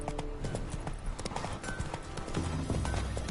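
Hooves of the horse Roach clip-clopping in The Witcher game, a brisk steady gait of close, distinct hoof strikes over ambient background, with a faint voice briefly present.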